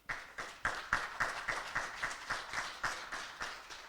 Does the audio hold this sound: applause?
yes